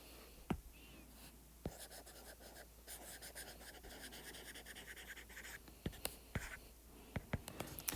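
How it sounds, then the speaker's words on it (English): A hypotenuse label being written by hand on a trigonometry diagram, faint scratchy pen strokes with a few sharp taps, and quiet whispery breath under them. "I like to write my hypotenuse like this"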